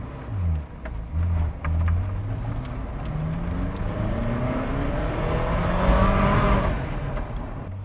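Ferrari F40 V8 engine accelerating on a test drive, heard from inside the car as a loud low rumble with climbing tones through several gear changes, building to a harsh peak.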